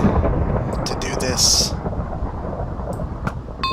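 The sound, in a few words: thunderstorm thunder in Minecraft video game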